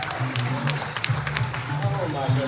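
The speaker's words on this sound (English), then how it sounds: "One more big round of applause." An audience claps for a magic and comedy show aboard the Carnival Spirit cruise ship: a steady patter of hand claps running under a continuous voice for the whole stretch.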